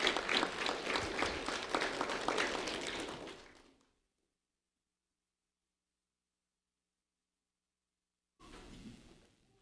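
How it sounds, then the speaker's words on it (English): An audience claps for honored fifth-grade students at a recognition event: a few seconds of brisk applause, then a gap of silence, then a second, quieter burst of clapping. "A round of applause for Cipriano and Vivian, please."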